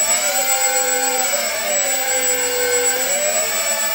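Model Lancaster bomber aircraft engines on a static thrust test rig, a steady high-pitched electric-motor whine with sweeping pitch as the throttles are opened for a few revs, loud and close with no talk.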